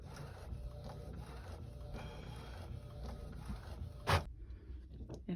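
An Epson ET-15000 inkjet printer runs a print head alignment pattern, giving a steady mechanical whir with faint carriage shuttling, ending in a brief sharp burst just before it goes quiet.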